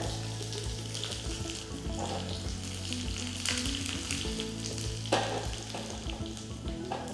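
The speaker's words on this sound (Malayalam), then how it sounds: "കടുക് പൊട്ടുമ്പോൾ 2 ചുവന്നുള്ളി നീളത്തിലരിഞ്ഞത്," Mustard seeds and sliced shallots fry in hot coconut oil with a steady, dense sizzle and crackle, a low hum underneath and occasional louder pops, without any talk.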